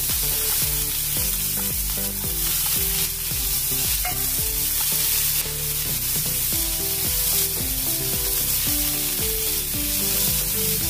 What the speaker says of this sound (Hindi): राई तड़ने लगी है अभी इसमें डालेंगे प्याज बारीक कटा हुआ